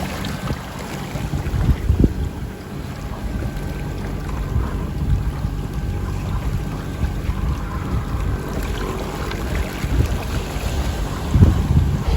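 A sailboat pushes through a choppy sea off the UK coast near St Alban's Head, heading to Yarmouth against the tide, with steady wind roaring across the microphone, waves slapping the hull and occasional heavier thumps, no voices.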